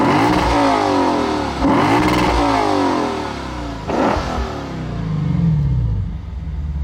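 A 2015 Lexus RC F with its stacked exhaust, heard from outside as the engine revs hard in several loud, close bursts, each rising and falling, before settling into a lower rumble.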